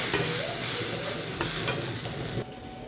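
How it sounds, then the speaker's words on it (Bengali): Red lentils fry with onion, garlic and black cumin in a pan and get stirred, giving a close, steady sizzle broken by a few scraping stirs, with no voices. "ডালটা ভাজা হয়ে গেছে"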